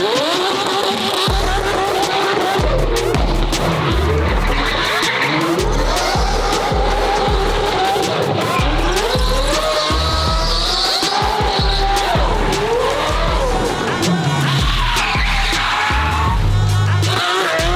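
A Lamborghini engine roars loudly and continuously, with rising and falling revs sustained throughout at close range, dense and forceful with no pauses.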